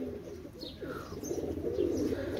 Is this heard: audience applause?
no